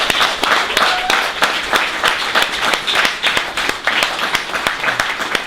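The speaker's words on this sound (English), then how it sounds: "Round of applause for that." An audience at a basketball event in Brixton breaks into sustained, dense applause, many hands clapping together loudly and continuously throughout.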